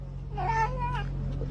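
A cat meows a few times, a close, rising and falling cry over a steady low hum, with no talk.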